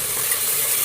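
Ginger garlic paste is stirred in a hot frying pan for chicken dum biryani, giving a brief, steady close hiss of sizzling oil with faint scraping and no voice.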